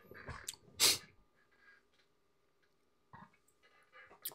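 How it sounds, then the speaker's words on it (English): A single loud sneeze bursts out near the start, followed by quiet breathing and a couple of faint sniffs or rustles. "I'm gonna sneeze again."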